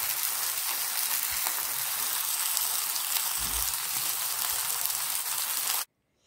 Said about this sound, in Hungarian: még egy pár másodperc, és forgatom a húst meg, és utána megfordítottam